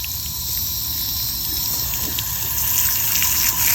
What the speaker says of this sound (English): You can see the water that's coming down